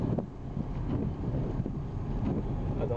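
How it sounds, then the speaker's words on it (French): Strong wind buffets the microphone outdoors in the Manche on a snowy January day, a dense low roar with uneven gusts and no voices. "Le vent il se renforce honnêtement."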